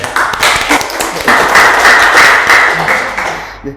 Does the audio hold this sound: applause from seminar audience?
yes